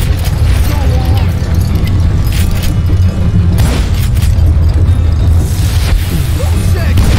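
Dynamite blasts in the Western shooter game Call of Juarez: Gunslinger during a boss fight, with heavy booming explosions and bursts over continuous loud game sound and a voice talking.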